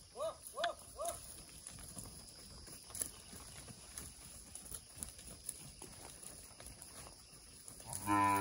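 Khillari breed cows moo several times in quick succession early on, fairly close, then fainter farmyard noise and a low moo near the end.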